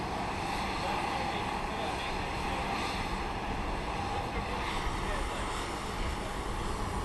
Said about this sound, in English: Flight 963 to the Big Easy of New Orleans is a 737-700 getting ready to take off.